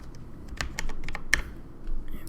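Scattered keystrokes on a computer keyboard, a handful of sharp clicks at an uneven pace, close by against a quiet background.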